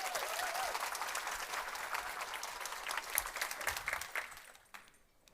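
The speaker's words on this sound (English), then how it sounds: "Give a round of applause to Heidi Lee." An audience at a Nordic female investor meetup gives Heidi Lee a round of applause, a full burst of clapping that holds steady for several seconds before quickly fading to near silence.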